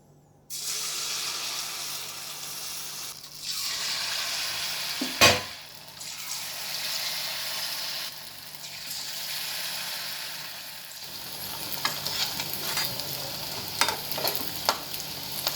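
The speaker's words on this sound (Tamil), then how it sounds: "மாவில் இதை துவைச்சி எண்ணெயில் போட்டுடலாங்க." Thoppam dumplings dipped in batter frying in hot oil, a steady loud sizzle and bubbling that runs throughout, with a sharp clatter near the middle and occasional light utensil taps, no voices.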